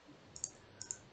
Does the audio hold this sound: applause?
no